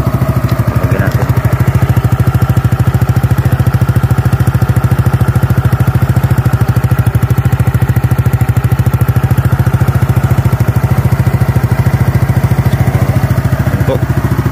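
A Keeway K-Blade 125 motorcycle engine runs at a steady, loud idle after starting, with an even chugging rumble and light mechanical clatter throughout.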